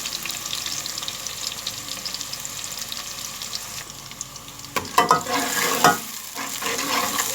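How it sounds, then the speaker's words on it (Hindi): Sizzling and crackling of onions frying in hot oil, with scraping stirring sounds that grow louder and busier partway through, close up. "अब हम इसको फ्राई करेंगे।"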